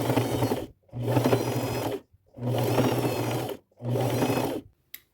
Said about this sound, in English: sew as close to the edge as I can all the way around